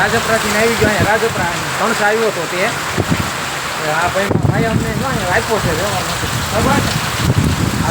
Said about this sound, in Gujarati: કાંઈ ઘટે નહીં એવો વરસાદ છે